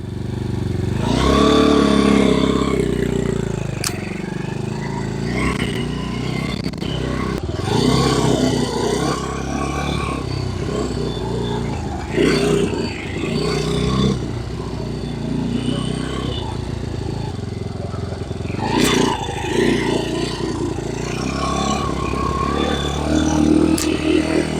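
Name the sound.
motorcycle being ridden around after assembly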